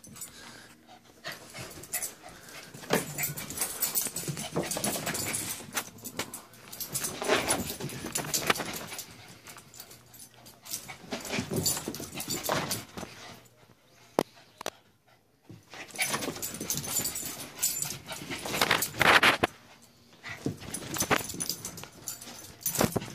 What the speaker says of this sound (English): You're a crazy dog, you know that?